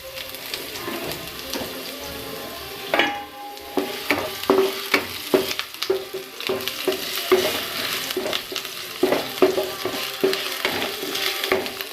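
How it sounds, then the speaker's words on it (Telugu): Curry leaves, with pieces of bottle gourd, sputter and crackle in hot oil in a pan, with steady sizzling and a run of sharp pops and stirring clinks, close and moderately loud with no talk. "ఇప్పుడు మనం డీప్ ఫ్రై చేసుకుందాం."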